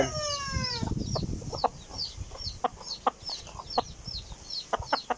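A white Kelso gamecock in a backyard breeding setting clucks in short, close, irregular bursts after a brief crowing-like call at the start, with no talk over it.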